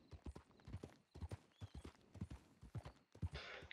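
A horse in Red Dead Redemption 2 clip-clops along at a steady walking rhythm, hooves close and distinct, with the occasional soft snort and no speech over it.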